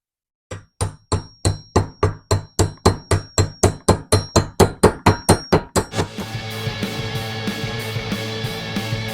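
A hammer taps a trailing arm bushing into a Chevrolet C10, guided by the old bushing's sleeve: about twenty sharp, evenly spaced metallic strikes up close, then a steadier ringing clatter of faster blows.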